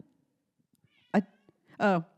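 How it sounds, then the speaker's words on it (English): A house cat meows twice, a short mew then a longer drawn-out meow, close and clear against a quiet room. "In case anybody hears purring or wonders why we're talking about cats on knees"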